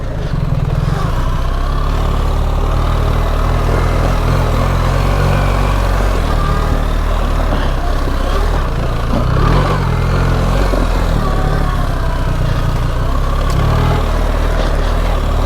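A BMW R 1300 GS motorcycle riding off-road on rutted trails gives a loud, steady engine drone mixed with heavy wind and rumble, continuous and close for the whole stretch.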